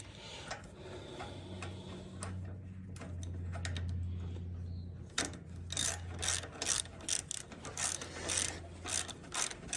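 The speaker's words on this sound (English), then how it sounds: "Get the wrench back over here." Ratchet wrench tightening a spark plug on an 18hp Kohler Courage SV541 engine, a close run of quick clicking ratchet strokes that grows denser in the second half, with faint background hum.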